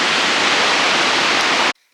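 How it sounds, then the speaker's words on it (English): Icelandic waterfall throwing off heavy spray, a loud, steady broadband roar of falling water close by that cuts off abruptly near the end. "Rick thinks this is the waterfall that puts off the most amount of"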